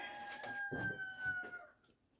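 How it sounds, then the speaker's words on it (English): A rooster crows once, a long drawn-out call that starts strong and trails off near the end, fairly close and clear. "I'm fixing to eat that rooster"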